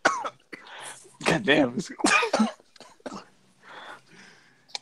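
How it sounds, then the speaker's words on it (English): Several harsh, rough coughs burst out close by, mixed with a man muttering between them, during a live podcast show. "We're gonna hear him cough for the rest of the podcast"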